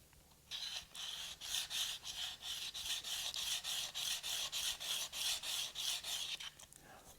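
A steel card scraper held upright against a hardwood block is sharpened with steady, rhythmic rasping strokes, about two per second, close and fairly loud, for several seconds before stopping.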